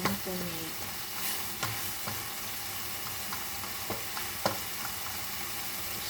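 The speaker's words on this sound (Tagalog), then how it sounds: "So, tutuin lang natin saglit yung tomato." Tomato sautés in a hot pan for a sardine dish, a soft continuous sizzle broken by a few stirring scrapes and clinks of a utensil, fairly quiet and close.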